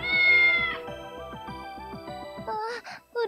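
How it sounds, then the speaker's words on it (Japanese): A cartoonish cat stuck up a tree in a Japanese dating game meows in a sustained, close cry, followed by shorter meows and tonal game sounds, with no speech. "ねえ、あの猫助けてあげられないかな。"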